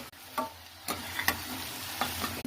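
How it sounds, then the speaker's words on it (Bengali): Chopped kohlrabi and potatoes are sautéed with spices in a pan, a steady low sizzle broken by several sharp scraping stirs of a spatula, close and alone with no voices. "এই মুহূর্তে আমি কেটে রাখা ওলকপি আর আলুগুলো দিয়ে দেবো। এগুলো সব একসঙ্গে ভালো করে কষিয়ে নেব।"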